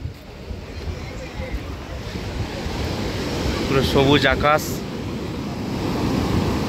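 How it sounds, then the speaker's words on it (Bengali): Surf rolling onto Old Digha beach in clear weather after rain, a steady broad wash of large waves with wind buffeting the microphone, and a person briefly speaking over it midway. "বিশাল বিশাল একটা ঢেউ আসছে আজ"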